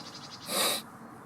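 A crow calling outdoors in wintry Moselle countryside, a single harsh, raspy caw lasting under half a second, fairly close and clear against quiet background hiss.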